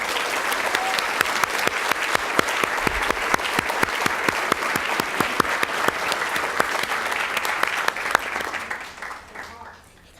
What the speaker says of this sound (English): Please join me in giving these singers a round of applause.